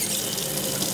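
Water runs steadily from a tap during a scalp spa wash, a continuous close splashing rush with no talk over it.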